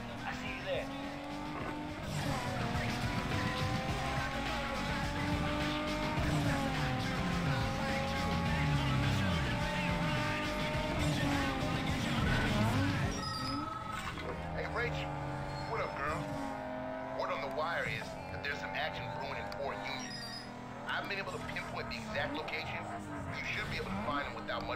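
Street race cars in Need for Speed Underground 2 roar steadily with revving engines, gear changes and occasional tire squeals; the engine noise stays loud and close throughout, shifting in tone about halfway through.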